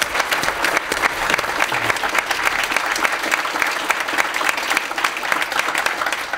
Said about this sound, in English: let's give a round of applause for them right now